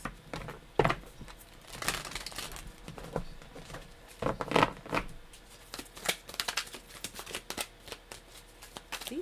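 Sticky tarot cards being shuffled by hand: irregular bursts of soft riffling and slapping, close and quiet, with short pauses between handfuls.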